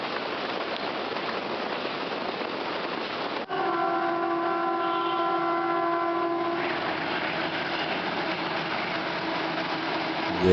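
The Jaffar Express rumbles past on the Horseshoe curve at Taxila, led by a PH820-series locomotive, a steady broadband roar of rolling stock with sustained tonal horn-like lines midway, heard fairly near and without speech.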